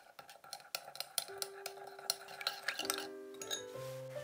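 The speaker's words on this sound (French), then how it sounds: "Je mélange." A spoon or utensil scrapes and clinks against a pan while sauces with oyster sauce, salt and pepper are stirred together, quick irregular taps and scrapes close by, with faint tonal ringing near the end.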